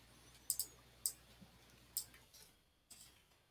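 Computer mouse clicks while setting up an online survey, about five sharp, close, isolated clicks spaced irregularly over a quiet low hum, with no talk.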